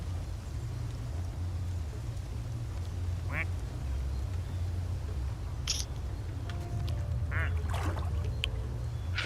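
Quacking from plastic ducks in Placid Plastic Duck Simulator, a few short quacks scattered over steady game background noise, with a low hum underneath.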